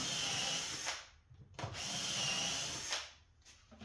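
A power drill whirs in two sustained bursts, pre-drilling hardware holes in melamine cabinet pieces, stopping briefly between them, close and fairly quiet with no talking.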